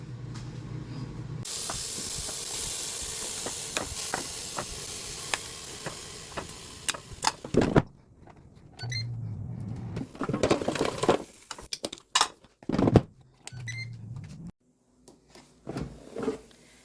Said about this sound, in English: Now it goes into air fryer.